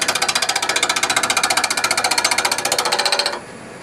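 A lathe turns a four-sided wooden jar while the tool rides the bevel, giving a loud, rapid rhythmic chatter as each corner strikes the edge, then dropping suddenly to a quieter spinning hum near the end.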